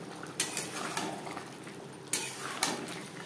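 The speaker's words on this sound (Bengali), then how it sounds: "গ্রেভির সাথে ঘি ও গরম মশলা বেশ ভালো করে মিক্সড করে দেব" Metal utensil scraping and clinking in a pan while ghee and garam masala are stirred into a potato and pointed gourd curry gravy, with several sharp knocks among steady stirring close by.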